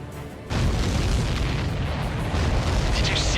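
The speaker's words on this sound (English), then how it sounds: "Did you see that explosion?" A large in-game explosion from an aerial combat mission in Ace Combat 7, as a supply ship is taken down: a sudden heavy boom after a quiet half-second, then a sustained loud, roaring rumble.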